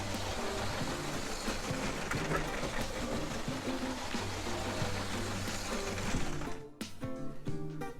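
A small LEGO City subway toy train rolls steadily along its track with a continuous rumbling whir and clatter, close by, cutting out briefly near the end.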